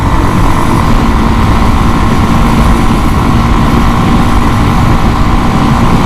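A Kawasaki KLX 230 dual-sport motorcycle with its 230cc single-cylinder engine runs at a steady drone, loud and close with wind roar and no pauses, and no voices over it.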